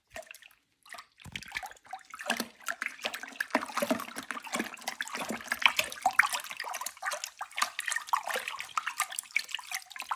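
Homemade apple cider made from fresh apples being stirred, giving faint, irregular sloshing and dripping liquid sounds with small clinks, close by and fairly quiet.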